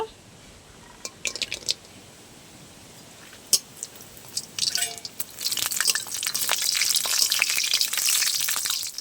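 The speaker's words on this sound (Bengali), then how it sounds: "আমি শাকের জন্য বড়িটা আগে ভেজে নেব" Lentil dumplings (bori) frying in mustard oil in a kadai, a few isolated crackles and drips at first, then building into a steady, loud, close sizzle that fills the second half.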